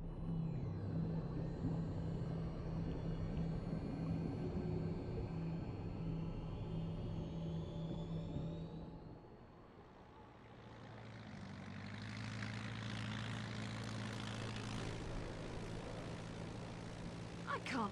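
An airplane in the video game Bayonetta 2 drones with a loud, steady engine rumble that dips briefly midway and then swells again, with a layered whooshing roar throughout.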